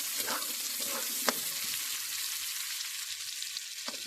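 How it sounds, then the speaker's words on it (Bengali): Cauliflower frying in a pan with turmeric and salt, a steady close hissing sizzle with a few soft clinks of stirring, no talk. "ফুলকপিটা হয়ে গেছে ভাজা লাল লাল হয়ে গেছে দেখো"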